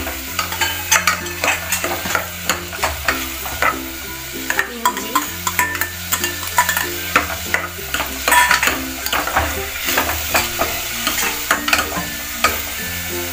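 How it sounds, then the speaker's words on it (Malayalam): Garlic and ginger sauté in a pan for a Kerala-style mutton curry, with a steady sizzle under repeated rhythmic scrapes and knocks of a spoon stirring close by. No one speaks. "വഴറ്റി കൊടുക്കുക കൂടാതെ വെളുത്തുള്ളി ഇഞ്ചി"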